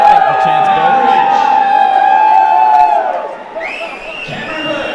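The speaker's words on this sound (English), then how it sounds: "Biggest cheer in the lot, I think, for Chance Bergman." A large crowd cheers and whoops at a 2015 NRL reserve grade rugby league grand final between Lakes and Wests, a loud sustained roar that fades somewhat after three seconds before swelling again.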